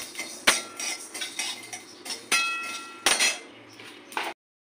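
Metal spoon scraping and clinking against a pan as whole spices with cumin are stirred quickly while dry-roasting for raw mango pickle, sharp irregular clanks and scrapes alone, ending in silence.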